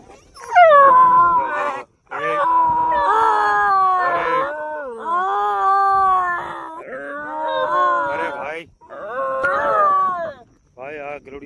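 A puppy outdoors at night in the Gir lion area cries in long, loud, wavering whines and howls, close to the listener, with brief pauses between the drawn-out cries.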